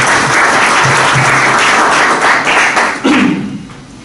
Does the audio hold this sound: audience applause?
yes